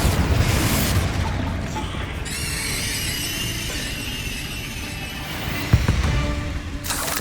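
Confringo and Bombarda spells explode in Hogwarts Legacy: a deep, sustained booming rumble under ringing tonal hums, with a sharp burst near the end.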